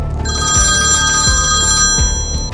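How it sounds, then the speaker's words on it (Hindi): A telephone rings with a bright electronic ringtone, held steady for a couple of seconds over a few low dull thuds. "सोने के थोड़ी देर बाद फिर से फोन बजा"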